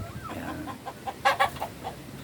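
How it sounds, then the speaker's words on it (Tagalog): Pet hens clucking nearby, a short run of quick, choppy clucks rising in the middle, over faint background noise. "yung mga alaga kong manok"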